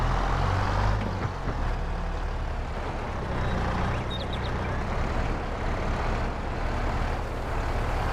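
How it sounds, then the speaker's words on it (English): Small tractor engine in Farming Simulator 22, a steady low rumbling drone that runs loud and unbroken throughout with no pauses. "I like this little tractor."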